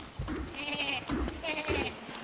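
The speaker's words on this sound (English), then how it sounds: "These goats scare me." Goats bleating in the survival video game Don't Starve Together, several wavering bleats in a row over game sounds, fairly close.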